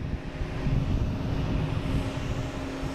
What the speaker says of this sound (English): We also have United Airlines taking off here.